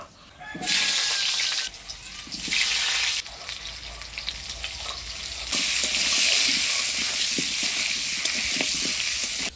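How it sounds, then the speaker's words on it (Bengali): Potatoes frying in a pan for a village-style mutton dish, a steady close sizzle rising and falling in bursts, with occasional stirring scrapes and clinks. "আমি এদিকে আলুটা ভাজি নিই"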